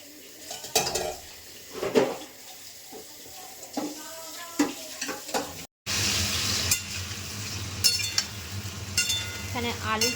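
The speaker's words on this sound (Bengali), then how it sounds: "এখানে আলু ভাজা চলছে, আলুর দমটা হবে।" Potatoes fry in a pan for aloo dum in a home kitchen, with a steady sizzle, utensil clinks and stirring scrapes close by. The sizzle grows louder and denser after a brief cut midway.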